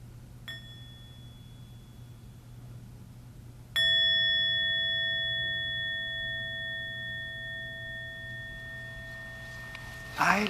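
A mindfulness bell is struck twice: a light first tap, then a fuller, clear ring whose pure tone sustains and slowly fades for several seconds in a quiet room.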